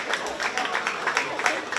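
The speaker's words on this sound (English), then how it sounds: "Huge round of applause" Applause from a county fair crowd at a 4-H/FFA swine show, a steady soft wash of many hands clapping at a distance, fairly quiet and continuous.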